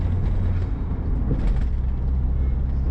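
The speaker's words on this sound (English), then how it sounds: "all the noise this car is making" A turbocharged car engine drones steadily from inside the cabin while driving, a loud low rumble with road and wind noise layered on top, constant through the whole stretch with no voices.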